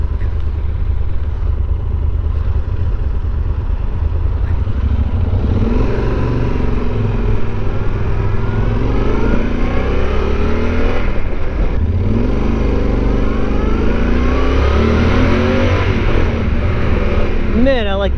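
A Yamaha Super Ténéré motorcycle engine revs and accelerates close by, pitch climbing through several gear changes over a constant loud rumble.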